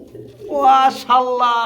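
Pigeons in a loft of birds for sale cooing up close, a couple of loud rolling coo phrases in quick succession with a brief pause between.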